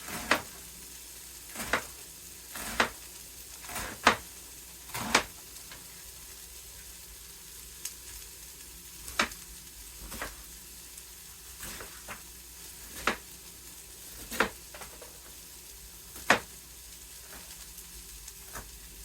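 Food fries in a pan while salbutes are being cooked, giving a steady low sizzle broken by sharp, irregular pops and crackles every second or so, close up and with no talk.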